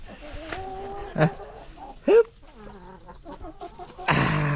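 Laying hens cluck during feeding time on a farm, with a few sharp, close calls standing out over a steady background of farm noise and a brief voice.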